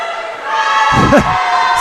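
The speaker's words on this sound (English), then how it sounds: "This crowd's starting to get into it here for the Firehawks." A volleyball crowd at a college match between Tennessee Southern and Loyola New Orleans roars steadily for the Firehawks, a loud sustained cheer with a brief shout rising in the middle.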